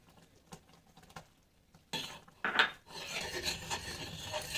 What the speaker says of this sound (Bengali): আমি কিন্তু গুঁড়ো দুধটার সঙ্গে সুজিটা ভালোভাবে মিশিয়ে নিয়েছি।